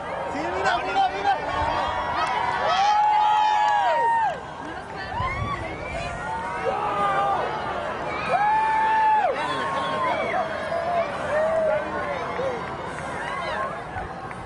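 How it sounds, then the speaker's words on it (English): A crowd gathered for a total solar eclipse in Texas cheers as the sun reappears, with rising whoops and shouts swelling and fading in waves while people talk nearby. "You're going to hear a big cheer."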